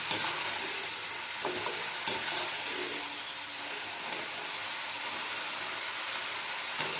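Potato kurkure snack dough frying in hot oil, a steady dense sizzle and crackle with occasional sharper pops, continuous and close, no voices.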